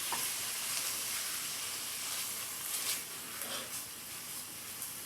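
Food browns in a hot pan, a loud continuous sizzle and hiss that holds steady for several seconds with slight stirring movements, close and with no voices.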